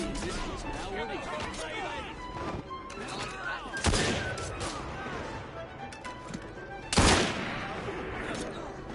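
Pistols fire in a salvo in Assassin's Creed Syndicate, two sharp loud cracks standing out against busy game ambience, with a voice speaking over the scene.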